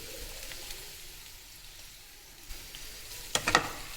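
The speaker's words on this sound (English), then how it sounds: "we'll put our boiled and chopped beetroots and fry it for some more time" Boiled, chopped beetroot and capsicum frying in a pan, a soft low sizzle throughout, with a few sharper clatters and spatters near the end.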